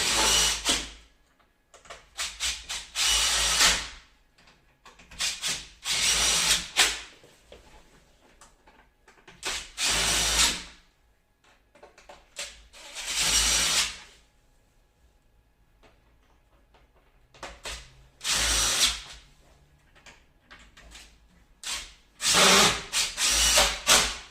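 Power drill driving screws into a uPVC French double door while refitting a euro cylinder lock, repeated loud whirring bursts of a few seconds each separated by quiet pauses.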